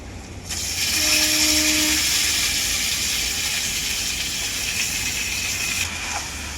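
About a kilo of mutton hits a hot pan with onion, ginger and garlic paste and starts frying: a sudden, loud, steady sizzle and hiss that holds for several seconds, then dies down slightly near the end.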